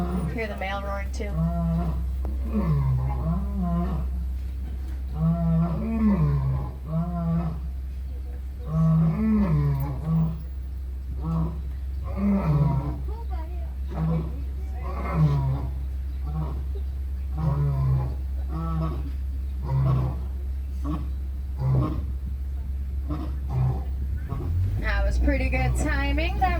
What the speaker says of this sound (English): Hear the male roaring too.